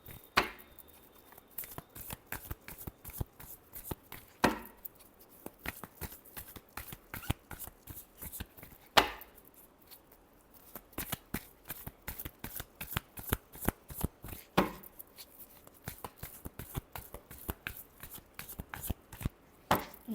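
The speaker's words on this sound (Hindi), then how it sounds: "Last shuffle." Tarot cards are shuffled by hand over and over, rapid riffling clicks in repeated bursts separated by short pauses, close and crisp with no speech.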